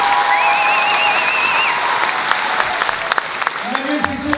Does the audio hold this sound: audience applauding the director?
yes